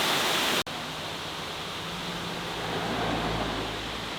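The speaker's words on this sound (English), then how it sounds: "Such a pretty waterfall, guys." Waterfall seen on an Alaskan cruise, a steady broad rushing roar of falling water that fills the air, with a brief dropout early on before it continues unchanged.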